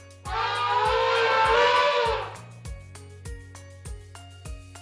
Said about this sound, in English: That sound belongs to a giant animal with a long trunk. It's an elephant.